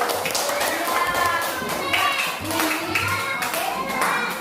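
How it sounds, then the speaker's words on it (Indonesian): Many children clap their hands together in a busy, uneven patter, with young voices chattering and calling out over the clapping. "Coba tepuk tangan semuanya itu."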